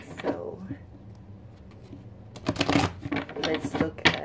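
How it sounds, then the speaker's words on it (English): Tarot cards are shuffled close by in a short burst of rapid riffling flutters following a quiet pause, with a person talking around it. "We're going to shuffle a bit. I already been shuffling"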